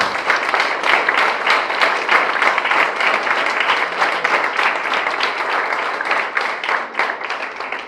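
Church congregation giving a loud, sustained round of applause during a worship service, dense steady clapping throughout with no talk over it.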